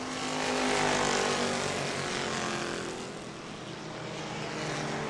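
Stock race cars run bumper to bumper at New Smyrna, their engines forming a loud continuous roar that swells as the pack passes close by and then eases slightly, with no voices heard.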